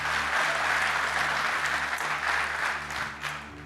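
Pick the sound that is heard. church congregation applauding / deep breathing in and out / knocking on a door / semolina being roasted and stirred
church congregation applauding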